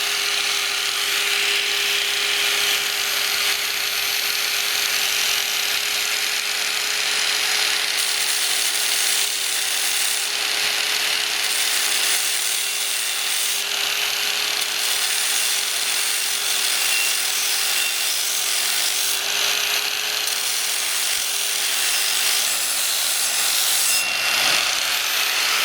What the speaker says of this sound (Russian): Мне придется его шлифануть.